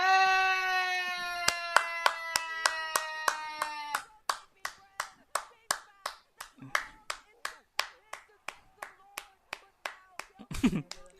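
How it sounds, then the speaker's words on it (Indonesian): Hands clap in an even, rhythmic series of about two dozen sharp claps during a mobile esports match restream. A sustained tonal sound runs under the first few seconds, then the claps continue alone, with a brief noise near the end. "Tepuk tangan dulu aja."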